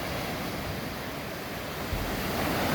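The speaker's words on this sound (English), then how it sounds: "You see where those furthest white capping waves are out there?" Ocean surf breaking steadily on a beach in the Philippines where the shoreline is eroding, a continuous loud wash of waves with wind buffeting the microphone and a slightly heavier surge near the end.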